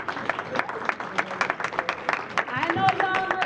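Scattered audience applause at an annual MLK breakfast event, a modest, uneven patter of clapping that stays fairly light, with voices mixed in underneath.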